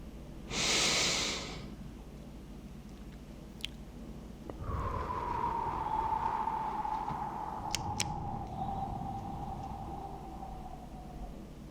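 Slow, deep breathing in a quiet relaxation setting: one soft, airy breath near the start, then a long steady exhale fading gently over several seconds, close and intimate with no talking.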